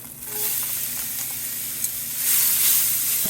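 Sliced onion sizzles steadily in a hot pot, a broad continuous frying hiss that swells louder toward the end, with no talking.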